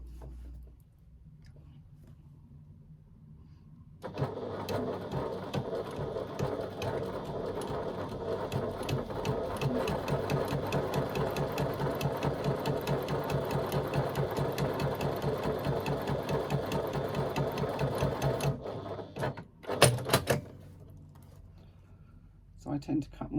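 A sewing machine stitches pleats into fabric, running steadily for about fifteen seconds with a fast mechanical rattle, then stopping with a few short bursts as the work is adjusted.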